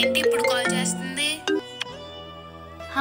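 An incoming-call ringtone plays on a mobile phone, a melodic electronic tune of repeated tones sounding clearly and alone.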